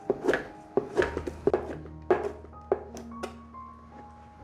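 A knife chops soaked, softened shiitake mushrooms on a cutting board in a home vegan kitchen, a string of crisp, close knocks in an uneven rhythm of about ten strikes, with a low steady hum underneath.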